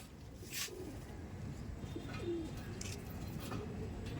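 Soft Delhi Madrasi pigeon coos sound intermittently against a steady low background hum, with a few faint bird noises scattered throughout.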